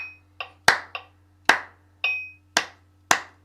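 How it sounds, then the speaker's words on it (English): Hands clap a rhythm pattern during a music warm-up, a close, crisp series of about eight claps in an uneven pattern, some softer and some sharp, alone without talk. "And then we'll clap that pattern for about a minute."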